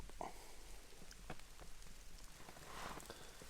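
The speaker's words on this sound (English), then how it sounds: "I wasn't expecting rain, but we've had a little bit of a shower" Light rain shower pattering on a tarp over a hammock camp, a soft steady patter with scattered drop taps, fairly faint and without voices.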